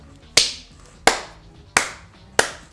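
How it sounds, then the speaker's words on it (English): Four crisp hand claps, evenly spaced about two-thirds of a second apart, loud and close with nothing else around them, celebrating a win during Smite gameplay. "Round of applause, round of applause."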